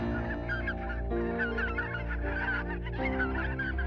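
Geese and other waterfowl honk continuously in the reed marshes of the Gran Brière, France, as a dense, close chorus of overlapping calls with no talk.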